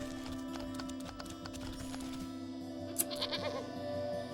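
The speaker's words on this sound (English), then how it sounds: "With much protesting and a nicked ear, you shear away clumps of dirty hair from the goat's eyes." A goat bleats in protest while being sheared in the video game Wytchwood, a short cluster of bleats near the end over a steady, busy game backdrop.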